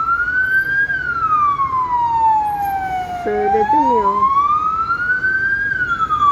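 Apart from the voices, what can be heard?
ambulance siren passing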